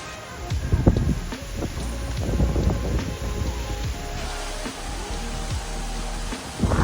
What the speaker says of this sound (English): Wind is coming through at high speeds.